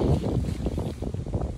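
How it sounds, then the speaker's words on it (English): Strong wind gusts along the Franklin Reservoir loop trail in Franklin, MA, a close, rumbling buffet against the microphone that swells and dips for the whole brief moment, with no talk. "Wow, it is windy."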